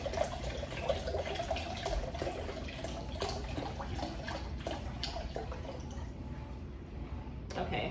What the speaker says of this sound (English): And I'm just gonna pour a good amount in here.